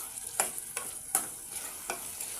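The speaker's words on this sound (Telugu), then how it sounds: "ఇప్పుడు దీన్ని కూడా ఒకసారి బాగా కలబెట్టేసి" Coriander and mint being stirred into a vegetable pulao, with a few spaced scraping strokes of a spoon against the pot repeating at an irregular pace, close and moderately quiet.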